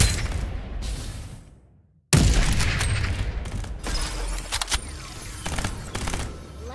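Gunfire in the shooter game Farlight 84: dense, continuous bursts of shots with sharp cracks, cut by a brief silence before the firing resumes loud and close.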